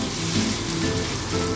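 Ginger and chopped tomato fry and get stirred in a pan, giving a steady, close sizzle with a soft hiss that holds at an even level throughout.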